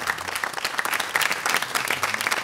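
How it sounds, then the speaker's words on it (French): Brief round of applause from an audience of parents on a French television programme, a crowd's scattered, lively clapping with individual hand claps standing out. "On applaudit."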